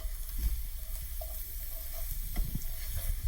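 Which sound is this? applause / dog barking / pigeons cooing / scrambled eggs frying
scrambled eggs frying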